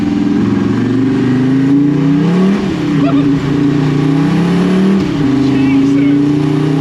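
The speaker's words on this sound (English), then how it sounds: "That was spinning the tyre in second there." A 400bhp diesel Commer pickup revs hard and accelerates at a show in Belgium, spinning a tyre in second gear, its loud engine note rising and falling in sustained surges with brief dips between them.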